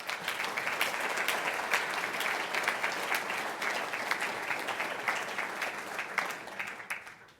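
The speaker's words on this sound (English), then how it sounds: "a round of applause for all of you" Sustained audience applause at a life sciences awards ceremony: a large crowd clapping steadily at moderate volume for several seconds before it tapers off.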